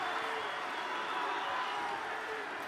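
A crowd at a 2012 London wheelchair basketball bronze medal match, USA against Great Britain, keeps up a steady, distant roar of cheering and applause.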